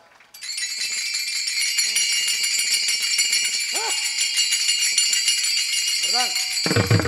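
Taal hand cymbals ring at a kirtan in a dense, bright, continuous metallic jingle that holds loud for several seconds, with brief sung vocal swoops over it.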